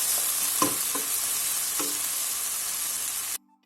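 Ingredients for homemade sugar-free ketchup sizzle steadily in a pan, with a few soft scraping knocks as they are stirred, close and continuous before cutting off abruptly near the end.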